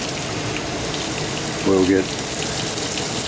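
Water gushes steadily from a kitchen faucet in a 2025 Heritage Glen 314BUD RV, a constant loud hiss throughout, with a brief spoken phrase partway through.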